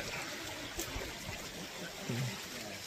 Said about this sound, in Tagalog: Ang sarap sa tenga nung tunog ng yung ilog.